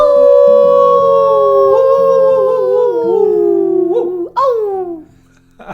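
A person imitates a wolf howl with one long, wavering, loud voiced note that slides downward, ending in a short yelp and a bit of laughter.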